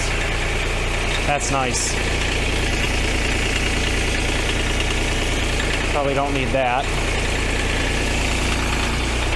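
A Kubota D902 diesel engine idles steadily at close range under light speech, the low rumble continuous throughout.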